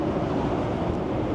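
Strong wind buffets the microphone on a cruise ship's open upper deck, a loud, constant roaring rush with no breaks across the whole moment.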